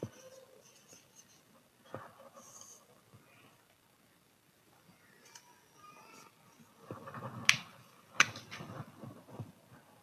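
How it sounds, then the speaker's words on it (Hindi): Numbers being written out by hand, faint close pen strokes and taps scattered across quiet stretches with a few louder scratches near the end, no speech. "जैसे मैं लिख के दिखाता हूँ।"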